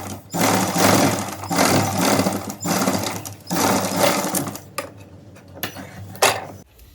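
Short bursts of a sewing machine stitching a blouse sleeve seam, joining front and back pieces, whirring up close with brief pauses between runs and a few clicks of handling near the end.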